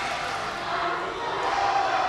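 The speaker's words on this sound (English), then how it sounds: "The crowd has started an Oompa Loompa chant at Luis Rojas." A wrestling crowd chants an Oompa Loompa chant at a wrestler, a steady rhythmic mass of voices from the arena, fairly loud and continuous throughout.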